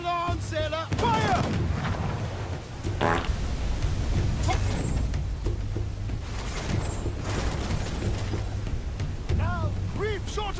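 Ship cannons firing a broadside in the pirate game Assassin's Creed Freedom Cry, heavy booms rolling one after another under continuous battle noise, with shouting voices over the top.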